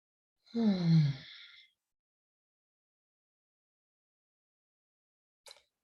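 One close, voiced deep breath, a long intake that becomes a soft sighing release, then silence and a faint brief click near the end.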